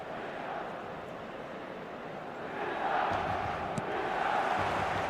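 A stadium crowd roars in an eFootball match, a broad, steady wash of cheering that swells louder midway and keeps going without a break.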